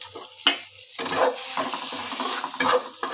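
Whole spices sizzle in hot oil for tempering: a dried red chilli, cumin seeds, cardamom pods, cloves, a cinnamon stick and bay leaves. A steady close hiss of frying runs under clinks and scrapes of stirring against the pan.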